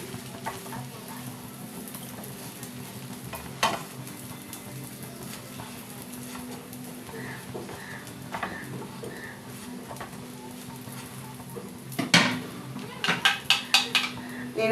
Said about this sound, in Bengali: পাউরুটিটাকে ভালো করে সেঁকে নেবো